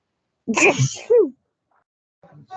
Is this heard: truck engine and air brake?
no